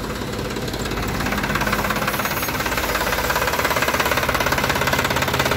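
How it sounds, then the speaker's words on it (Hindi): A Sonalika DI 35 three-cylinder tractor with an inline pump idles at about 700-750 rpm, giving a close, steady diesel knock and chug that grows slightly louder toward the end, with no voices. "700-750 आरपीएम पे चला हुआ है ट्रैक्टर बिल्कुल आराम से।"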